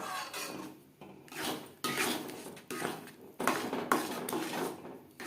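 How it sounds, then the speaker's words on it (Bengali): Thick cardamom-flavoured pitha dough is stirred and scraped around a metal kadai in repeated strokes of knocking and scraping. The strokes are loud and close, with short pauses between them and no speech. "এইভাবে অনবরত নাড়াচাড়া করে ড্রাই করে নেব"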